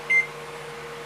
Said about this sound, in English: you can hear the inverters beeping like crazy